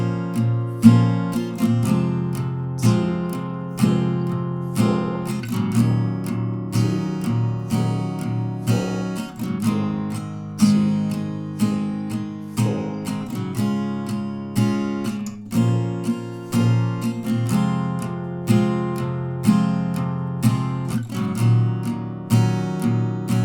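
Strummed acoustic guitar chords play the second verse of a song, a steady rhythmic strum with ringing chord changes, close and clear with no voice over it.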